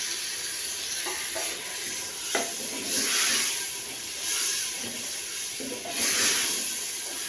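Minced meat tipped into a hot stainless steel pot of oil sets off a steady, fairly loud sizzle that swells in hissing surges and then settles back, with no talking over it.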